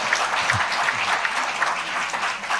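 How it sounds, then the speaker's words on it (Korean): Audience applause at a Lotte Hotel event, steady dense clapping from a crowd filling the whole short stretch, fairly loud and even. "뜨겁게 감사의 박수 부탁드립니다"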